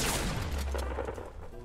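A short burst of rapid gunfire in the video game Fortnite, several overlapping shots packed into under two seconds, loud and close.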